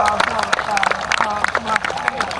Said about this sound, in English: let's have a round of applause for these great guys